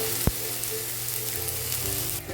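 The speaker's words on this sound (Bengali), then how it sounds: "পেঁয়াজটা প্রথমে হালকা হালকা ব্রাউন করব।" Chopped onion and a tomato fry in a pan, giving a continuous, even sizzle up close with a single sharp click near the start.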